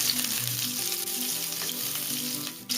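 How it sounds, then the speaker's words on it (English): Garlic and green chili sizzling in very hot oil over a high flame, a steady, close frying hiss with faint stirring underneath. "Here I have some oil heating up in very high flame. I am going to add in the garlic and the green chili."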